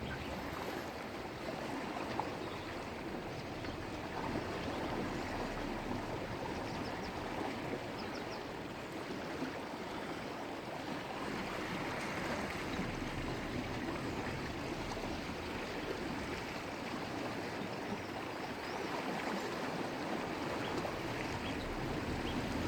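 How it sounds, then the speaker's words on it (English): River water rushes past the Tuapeka Mouth ferry punt, a faint, steady broadband wash and gurgle that continues without a break and has no voices over it. "you'll hear the water pick up, the pace of the river pick up shortly"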